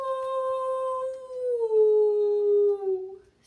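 A storyteller's voice imitates a dog howling: one long, sustained, tonal howl that slowly slides downward in pitch and fades out, heard alone and close.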